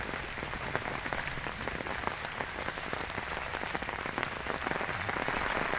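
Steady rain pours onto a natural-farming plot of ponds and fields in Thailand, a dense, even hiss of drops with no voices.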